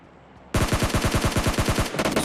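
SCAR rifle fire in a battle royale shooter, a sudden loud burst of about a dozen rapid rounds in even rhythm, briefly pausing and then resuming with a few more shots.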